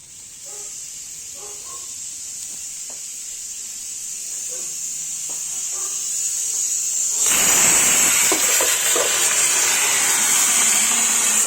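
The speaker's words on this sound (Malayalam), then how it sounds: "അപ്പം നമ്മളെ മീൻ പൊരി ഇങ്ങനെ ആയിക്കോണ്ടിരിക്കുകയാണ്" Fish frying in hot oil, a steady bright sizzle that swells sharply louder partway through as fresh pieces hit the pan, with faint clinks and taps of cooking utensils early on.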